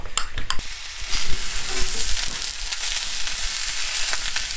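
Onion and dumpling batter frying in a pan on a Great Depression-style cabbage and dumpling dish, a loud, dense, steady sizzle with some quick scraping stirs at the start, close and without speech.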